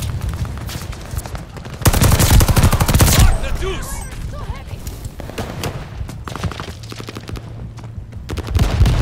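Rapid bursts of automatic gunfire and scattered shots ring out in a Call of Duty: Vanguard multiplayer hardpoint match, loud and close, with heavy volleys in the middle and voices heard in between.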